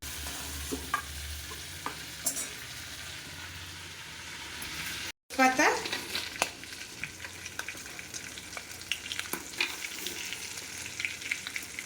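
Dried red chillies, bay leaf and panch phoron crackle and sizzle in hot oil, a quiet, close frying sound with light stirring that briefly cuts out and then resumes with a sharper burst.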